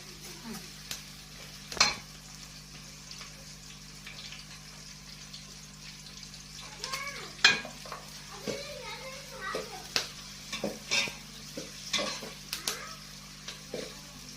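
Food frying in a pan while tomato is added during outdoor cooking, a soft continuous sizzle under stirring clinks, with people and children talking intermittently nearby.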